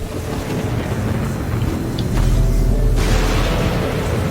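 Thunder from lightning in the game Jotun, heard as a loud, low, rolling rumble that deepens and swells partway through over a constant windy roar, with no talk.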